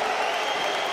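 An arena crowd at a CS:GO esports match cheers and applauds in a dense, even roar during one brief moment.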